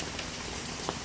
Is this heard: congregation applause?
no